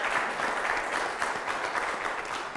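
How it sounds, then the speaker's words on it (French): Steady audience applause fills the whole stretch, a dense continuous wash of clapping at even loudness with no voices over it. "Et ça s'applaudit."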